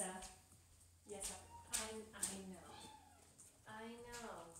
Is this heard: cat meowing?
yes